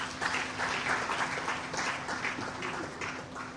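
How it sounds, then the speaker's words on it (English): Audience applause for a chairman at a security management gathering, a steady dense wash of clapping that holds evenly for the whole stretch, fairly distant and faint. "Another round of applause for our chairman."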